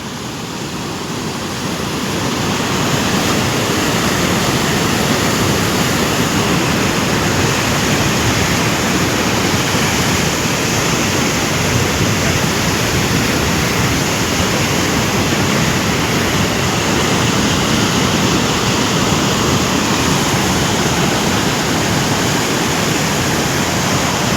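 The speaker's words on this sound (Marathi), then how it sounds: "एक मिनिटापूर्वी पाणी काहीच नव्हते आणि पाण्याचा वेग वाढत चालला आहे" A loud, steady roar of the fast-rising Godavari River after rain, the flow building over the first few seconds and then holding as a constant rushing torrent.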